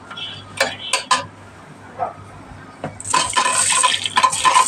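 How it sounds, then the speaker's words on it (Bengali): A spoon clinks and scrapes in a pan while ingredients are stirred and fried before rice goes in for basanti pulao, followed by a loud, steady, close sizzle of frying. "এবার আমি এটাকে একটুখানি ভেজে নেব, 1 মিনিটের জন্য একটু ভেজে নেব।"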